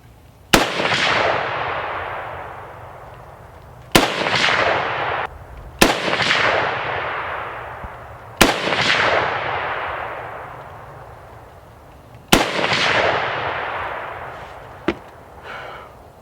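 Five loud, sharp M1A rifle shots fired at a paper target card at the range, spaced a few seconds apart, each with a long echoing decay and no talking.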